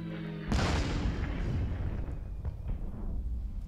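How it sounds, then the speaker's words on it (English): A bombing strike on a Panzer tank in the KARDS World War II card game: a sudden loud explosion bursts in after a brief quiet lead-in, then a rumbling boom and scattered crackling debris fade out over the next few seconds. "Let's bomb the first Panzer."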